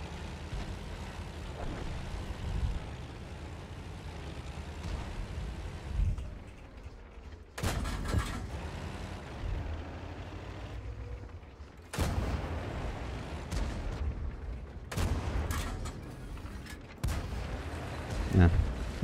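Tank cannon shots in World of Tanks ring out as several sharp, loud booms spaced a few seconds apart, with someone talking and the steady engine rumble of battle underneath.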